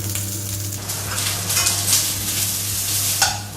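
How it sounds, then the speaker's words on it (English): Garlic and onion sizzle in a hot pan during a quick stir-fry, a steady crackling hiss broken by a few brief scraping stirs. "Give this a quick mix."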